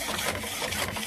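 Mechanical whirring and clicking from a Dell V515W inkjet printer running a printhead alignment, a steady busy texture of small rattles throughout a short burst, close by.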